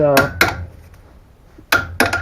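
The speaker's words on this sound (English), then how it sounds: "I need to put the spanner back in there, and then with the hammer I need to move it back and forth" A hammer taps a spanner fitted on an engine to work a stuck fan loose, giving sharp metallic strikes in two quick pairs separated by a short quiet gap, close and clear.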